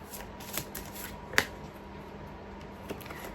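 Oracle cards being shuffled by hand, quiet riffling and soft papery flicks with one sharper slap of cards partway through, close and faint with no talking.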